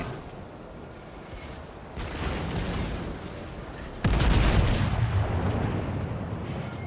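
The Warspite battleship fires its big guns in World of Warships, with heavy booming salvos that build up and then hit a loud, sharp blast followed by a long rumbling decay.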